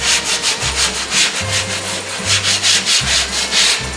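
Paint is sanded and feathered out on a plastic car bumper cover with steady back-and-forth strokes. The rasping is close and continuous, and a low motor hum starts and stops underneath.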